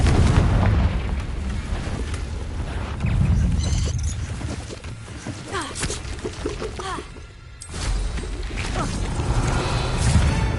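Confringo fire spell blasts in the video game Hogwarts Legacy on PS5, a dense rumbling explosive roar with several booming bursts over about ten seconds, loud and continuous with a brief dip near the middle.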